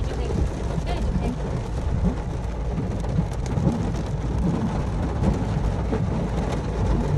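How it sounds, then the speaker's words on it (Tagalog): Heavy rain pouring steadily outdoors, a dense, loud, continuous roar of drops without pause, with a faint murmur of voices beneath. "Ulan, grabe."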